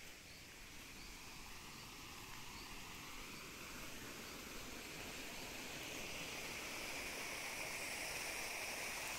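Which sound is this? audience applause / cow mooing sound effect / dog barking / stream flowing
stream flowing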